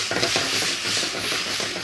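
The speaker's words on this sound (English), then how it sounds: "Stir it for a little while, add a tiny bit of chicken broth." Carrot, mushroom and Sichuan pickle stir-fry in a hot pan with a steady close sizzle and scraping stirs, with no voices.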